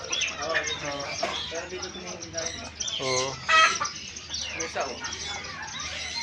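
Chicken clucks and chirps from a flock close by, busy and overlapping, with a person talking over them.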